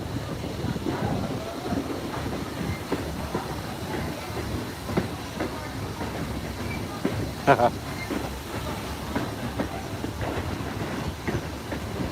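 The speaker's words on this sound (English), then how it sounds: "I heard some creaking and groaning of that bridge." A Strasburg Railroad train rolls across the Pumpkinville Turnpike bridge, the only bridge on the line, with a steady rumbling, clacking ride noise heard from on board and people talking over it.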